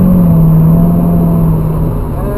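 Corvette C7 engine accelerating hard on a race track, a loud, steady close-up drone with a rising engine tone that holds throughout.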